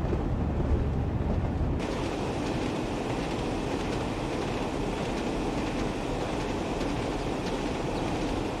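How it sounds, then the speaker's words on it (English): Train at full throttle in the video game Train Sim World 2020: a loud, steady, dense roar of engine and rail noise that holds constant throughout with no talking. "This train is loud when you go full throttle."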